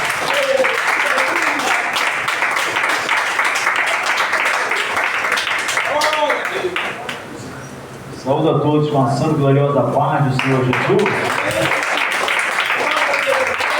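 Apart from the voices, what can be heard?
congregation applauding in church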